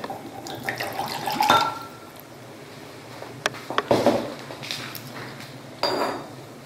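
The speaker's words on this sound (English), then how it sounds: "Now with me here I have diluted hydrochloric acid. I'm going to pour it into the beaker." Diluted hydrochloric acid poured into a glass beaker in a lab demonstration, a few short bursts of liquid splashing with light glassy clinks between quiet pauses.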